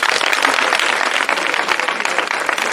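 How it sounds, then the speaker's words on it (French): An audience of schoolchildren and guests applauds at a private school's flag-raising ceremony, loud, close and continuous clapping with no voices over it. "on applaudit pour lui"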